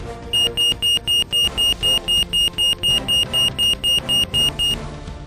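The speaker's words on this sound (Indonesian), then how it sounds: "Alarm kebocoran gas akan berbunyi seperti ini." A gas leak alarm at an offshore island facility gives a loud, even series of about sixteen sharp high-pitched electronic beeps in quick, regular succession, heard alone.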